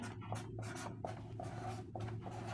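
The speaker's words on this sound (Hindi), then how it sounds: "चलिए मैं पहले से आपके सामने नंबर लिखता हूँ कुछ।" Marker or chalk writing numbers on a classroom board during a reasoning lesson, a run of short scratchy strokes close by over a steady low hum, with no talk.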